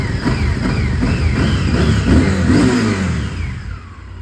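A Honda XL 1000 Varadero motorcycle engine revs repeatedly, rising and falling in pitch several times, loud and close, then settles toward the end.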